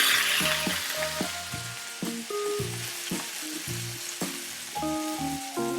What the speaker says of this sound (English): now I'm just going to start grilling the steak